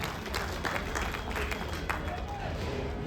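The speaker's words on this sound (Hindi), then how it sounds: "एक बार जोरदार तालियां बजाएं" A seated crowd at an outdoor political campaign meeting in a park gives a burst of applause. It sounds faint and fairly distant, a dense, even patter of many hands lasting a few seconds.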